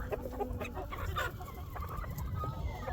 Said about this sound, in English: that's a cream-crested legbar rooster